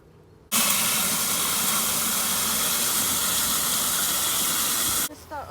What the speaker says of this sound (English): I'm going to turn the hose on.